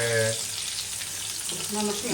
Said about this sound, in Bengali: এই যে বন্ধুরা আমাদের পটল ভাজা দেখেন পটল একটু লাল লাল হয়েছে